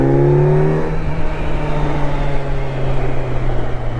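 Kawasaki Z900 motorcycle on its stock OEM exhaust while riding, a close engine drone with a rising rev tone early that settles into a steady hum under wind noise.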